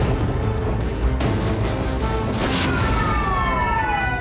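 Emergency sirens wailing after a missile strike on a large complex in Kharkiv, with loud broadband street noise and a rising-then-falling siren tone emerging in the second half.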